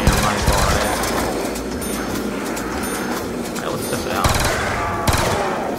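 A gun fires in rapid bursts at a zombie in a video game, dense and loud continuous gunfire filling the whole stretch with a few harder hits near the end.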